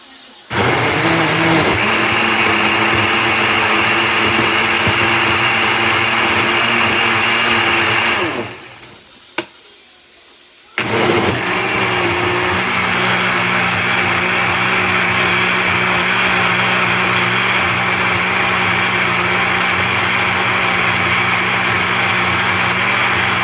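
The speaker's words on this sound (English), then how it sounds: "So now we're gonna do is blend it." A kitchen blender purees tinga sauce in loud, steady whirring bursts, running about eight seconds, stopping briefly, then restarting and blending continuously to the end.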